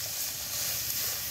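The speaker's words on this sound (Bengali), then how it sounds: "বন্ধুরা এবার জল ঢেলে দেবো।" Water poured into a hot pan while cooking a taro-leaf dish bursts into a loud, steady sizzle and hiss that fills the whole moment with no pauses or voices.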